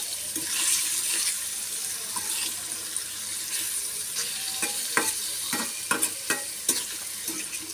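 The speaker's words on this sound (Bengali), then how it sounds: "নেড়ে চেড়ে দিব। ও ঝাল খেতে পারে না, তার জন্য এটাতে সামান্য মশলার গুঁড়া দিচ্ছি।" Air fish curry with spice powder is stirred in a frying pan over a continuous hiss of sizzling, and sharper scraping knocks from the spoon come more often toward the end, with no talking.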